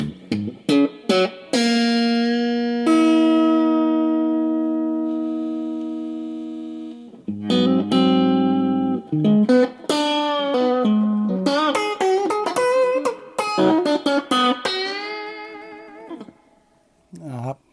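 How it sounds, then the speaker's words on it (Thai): Electric guitar played through a Fender Japan amplifier set for a twangy clean tone, with single plucked notes, long sustained chords that slowly ring out, and quick melodic runs, close and loud with no talking. "เสียงทวังเฟนเดอร์"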